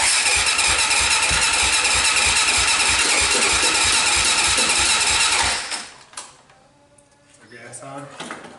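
A Honda 400EX ATV engine sits in neutral, cranking and running in a loud, steady rattling drone for about five seconds before cutting out, leaving quieter mechanical clatter behind.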